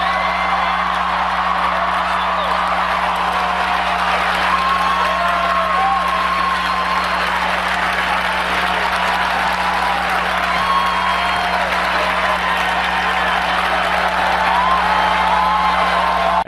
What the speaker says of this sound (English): And that applause went on for some time beyond what we just showed you.